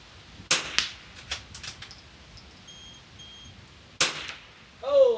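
Rimfire rifle shots at an NRL22 match course of fire: two sharp cracks with a brief gap, then a third several seconds later, each followed by a short ringing tail, with a faint squeak at the end.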